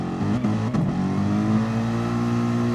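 Steady, droning race car engine in a GT sim racing game, holding a high sustained pitch with slight shifts as it accelerates through a lap, loud and continuous with no talk.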